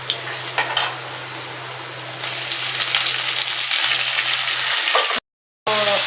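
Tomatoes frying with shallots in a pan for Karaikudi mutton kulambu, a loud continuous sizzle with spoon stirring scrapes, broken by a brief silent gap before the frying resumes.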